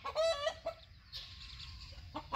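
A new hen clucks among chicks in a backyard flock, giving a burst of clucking calls, then a quieter stretch of faint chirps and rustling, then a few more clucks at the end, moderately close.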